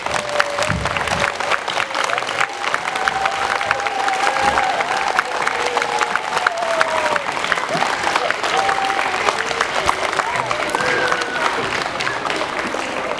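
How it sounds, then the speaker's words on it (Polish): Sustained applause from a large audience at a school theatre performance of Cinderella, dense steady clapping throughout with a faint voice or two rising above the crowd. "jeszcze raz ogromne brawa należą się wszystkim artystom"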